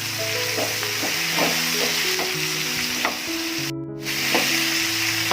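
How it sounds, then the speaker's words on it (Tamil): Fried onions are stirred into chicken gravy for Hyderabadi dum biryani, a loud continuous sizzle with repeated spoon scrapes and a brief cut of silence partway through. "இதையும் நல்லா மிக்ஸ் பண்ணி விட்டுடலாம்"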